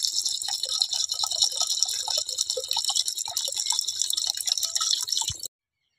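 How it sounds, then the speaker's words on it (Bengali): Rice and water are poured into a cooking pot for a home-style meat pulao, a close rattling, trickling pour with light splashes that stops abruptly near the end. "তারপর চাল, একটু পরিমাণ মতো জল দিয়ে দিচ্ছি।"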